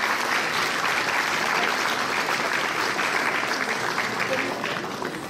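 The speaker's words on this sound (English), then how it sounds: "A big round of applause to the four young artists." Loud, sustained applause from a large audience after a performance by four young artists, dense and even throughout, tapering slightly at the end.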